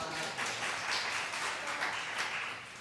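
A church audience at a children's education lecture in Madrid claps together, a dense, steady wash of many hands at moderate volume with no voices standing out.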